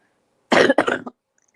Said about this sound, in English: This cough is up.